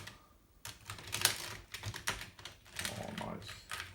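Typing on a Commodore Amiga 500 keyboard fitted with Chicken Lips keys, a close run of irregular key clacks that comes in bursts with short pauses between them.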